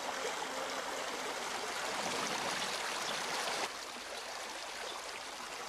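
A river flowing steadily in rugged open country, a broad even rush of water that stays continuous throughout, dropping slightly in level partway through, with no voices.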